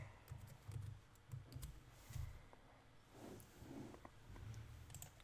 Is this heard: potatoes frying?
no